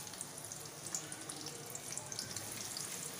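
Two medium chopped onions go into hot oil with whole garam masala spices for aloo gosht, giving a steady, fairly loud broadband sizzle and hiss that holds evenly throughout with no talking.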